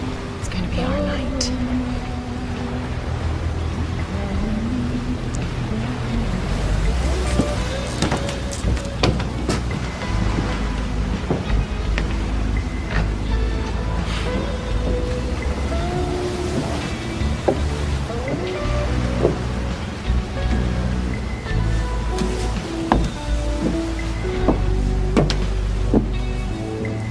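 Rain and wind roar steadily around a boat, with splashing water, creaking and scattered knocks; a voice speaks briefly amid the storm.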